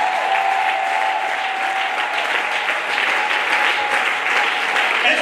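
Church congregation clapping loudly and steadily in acclamation of Jesus during a worship service, a dense sustained wash of applause with crowd noise and a faint held tone beneath.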